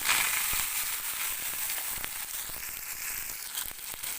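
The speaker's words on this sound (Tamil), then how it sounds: "வரமிளகா நாலு கருவேப்பிலை ரெண்டு கொத்து ஒரு கைப்பிடி அளவு சின்ன வெங்காயம் இதை எல்லாத்தையுமே போட்டுக்கலாம்" Dried red chillies, curry leaves and shallots frying in hot oil for a spinach curry, giving a steady close sizzle with scattered crackles and pops throughout.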